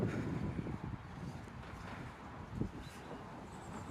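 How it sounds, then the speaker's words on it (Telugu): Cold autumn wind blows steadily outdoors in Toronto, a low, broad rumble of gusting air buffeting the microphone, moderately quiet, with a brief stronger gust near the end. "చలి గాలి."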